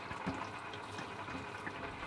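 Water being pumped out of the bilge of a sailboat runs in a steady, faint, close gurgle and trickle, with no speech over it.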